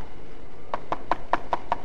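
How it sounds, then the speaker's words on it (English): Six sharp, evenly spaced knocks on the windscreen of a plane in a comic radio sketch, close and crisp, arriving in quick succession with no talk. "There's a peculiar knocking sound on the windscreen."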